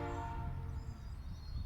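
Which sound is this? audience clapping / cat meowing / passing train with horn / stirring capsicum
passing train with horn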